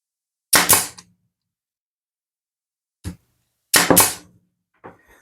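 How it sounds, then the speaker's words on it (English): A pneumatic nail gun driving nails into a wooden bird nesting box fires four sharp, loud, close shots in two pairs spaced a few seconds apart, each with a brief hiss, in an otherwise silent space. "You take our nail gun and make sure you're lined up square and straight."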